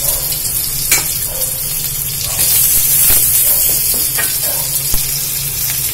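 Pepper, cumin and fennel sizzle in butter in a pan for a soup, a loud, continuous frying hiss with occasional stirring clinks throughout.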